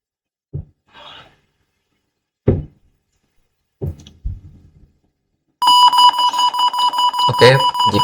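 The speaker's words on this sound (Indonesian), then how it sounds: "jika setelah adanya buzzer tandanya sudah bisa, kita mulai" A few knocks and brief vocal sounds come first, then the buzzer of a DCS man-machine interface sounds during a function test as a loud, steady, pulsing electronic tone.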